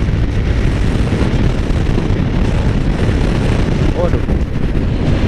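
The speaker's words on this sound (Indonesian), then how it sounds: "ini anginnya masih kenceng banget guys ya" Strong wind roars steadily and loudly over the microphone while riding a Yamaha XMAX 250 scooter in morning traffic, a dense continuous rush, and a man briefly exclaims over it.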